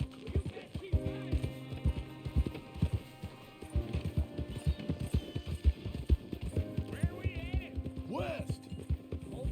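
A horse gallops in Red Dead Redemption, its hooves beating a steady, rapid clip-clop that carries through the whole stretch over a tonal game soundtrack, with occasional voices.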